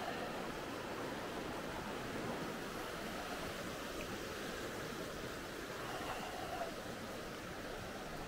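The River Derwent flowing past a muddy riverside path gives a steady, faint wash of rushing water heard from a distance, continuous and even with no voices over it.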